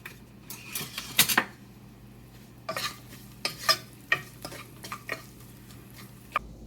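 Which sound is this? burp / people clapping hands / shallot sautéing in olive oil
shallot sautéing in olive oil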